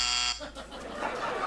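A game show buzzer blares loudly for about a third of a second at the start, then gives way to a burst of noisy studio sound and overlapping voices.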